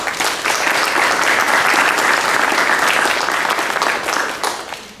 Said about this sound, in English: one last round of applause for all of our perseverance honorees